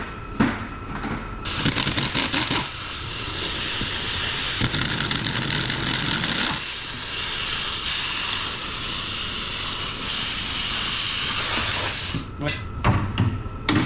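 Steam hisses loudly and continuously from the engine bay of an abandoned 1983 Mercury Capri RS, a broad rushing noise that swells and fades in long stretches, close by, with brief speech breaking in near the start and end.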